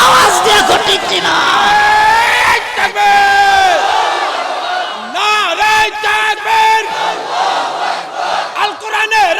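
A large crowd at an outdoor religious gathering roars a slogan in unison, several loud bellowed chants rising and falling, with a leader's voice calling between them.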